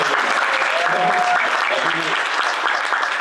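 A theatre audience applauding for actor Asif Ali gives loud, dense, sustained clapping from a large crowd that holds evenly throughout.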